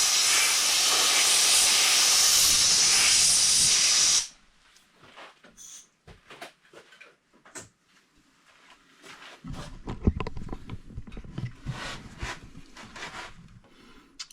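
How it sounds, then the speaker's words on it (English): Compressed air blasts into a bug hole in a wooden bowl with a loud, steady hiss lasting about four seconds, followed by quieter shop handling noises and small knocks. "Got my compressed air."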